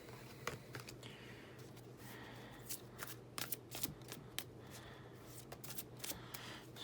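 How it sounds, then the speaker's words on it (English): Tarot cards are shuffled and pulled for a reading, giving soft, close riffling and flicking sounds with scattered light snaps over a quiet background, and no talking. "And I just pulled, like, 3 cards."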